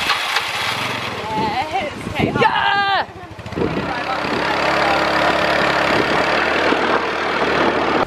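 A motorbike with a freshly revived battery starts up with a brief rough catch, then settles into a steady, continuous idle close by.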